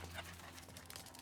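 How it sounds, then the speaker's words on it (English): A dog panting softly at a distance while standing near an uneven, broken concrete slab outside a house, a faint steady rhythm of breaths under low outdoor background noise. "there's my dog."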